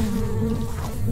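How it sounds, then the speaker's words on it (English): Steady insect buzzing of bees around an elite hive in Secrets of Grindea, a dense continuous drone with wavering pitch, close and constant without any talking. "Wall spam these bees."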